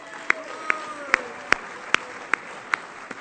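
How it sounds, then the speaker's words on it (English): Slow, evenly spaced single claps, about eight in a row, ring out one at a time at a retail awards ceremony in St Albans, with soft room noise between them. "So well done to them. Round of applause,"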